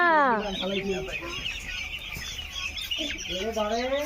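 Poultry-farm chickens cluck steadily and fairly loudly throughout while people talk over them.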